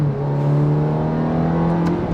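Ferrari F430 engine in sport mode while driving, a steady, even mid-pitched drone with a smooth sustained tone, heard from inside the car with no speech over it.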